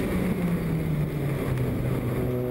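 A race car engine roars loudly and continuously from onboard at high speed during a championship race round, holding a dense, buzzing drone whose pitch shifts slightly as the driver lifts and presses the throttle again; no talking.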